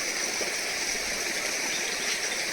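A village stream in the Himachal hills rushes and gurgles without a break, a steady, fairly loud hiss of flowing water close by, with no voices.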